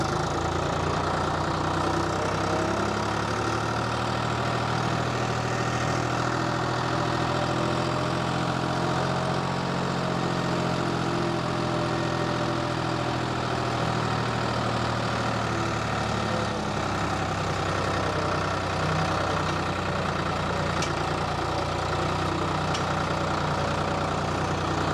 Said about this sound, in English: It's the first time trying it on the tractor.